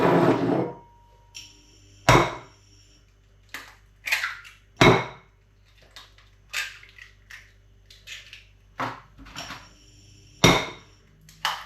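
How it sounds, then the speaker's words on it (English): A metal spatula clanks and scrapes against metal pots and pans in irregular, sharp strikes with quiet gaps between them, loud and close, with no talking. "I didn't know you weren't supposed to use metal spatulas on like metal pots and pans and stuff."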